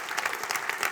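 Audience applause from a crowd at a tech conference talk about Angular, a dense steady patter of many hands clapping for about a second, moderately loud and continuous with no voices on top.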